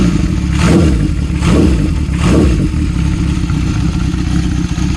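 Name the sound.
Honda CB750 motorcycle engine running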